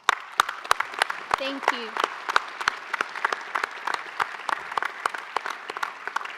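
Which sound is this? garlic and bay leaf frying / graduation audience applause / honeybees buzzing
graduation audience applause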